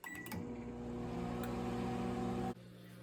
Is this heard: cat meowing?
no